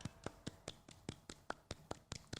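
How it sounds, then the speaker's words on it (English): A light golf clap: about ten soft, evenly spaced hand claps at a steady rhythm, quiet and close, from a small group or a single person. "Like a light golf clap."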